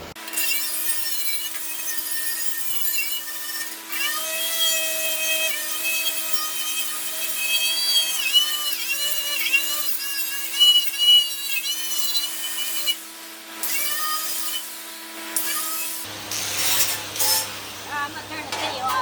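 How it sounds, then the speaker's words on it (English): Sanding a part from a 1968 Ford 2000 tractor, a continuous close rasping scrub with shifting squeaky tones, a steady hum joining near the end. "I know you don't want to watch me sand stuff for that long."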